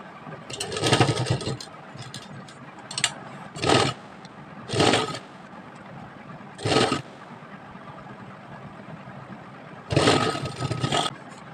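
A sewing machine stitching lace onto a sleeve runs in about five short, loud whirring bursts of a second or so each, with quiet pauses between them.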